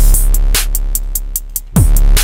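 Distorted Serum-preset 808 bass whose unfiltered saw-wave overtones buzz bright and harsh, sustained tones pulsing with short gaps and rhythmic stabs before a booming low 808 hit returns near the end, loud and alone.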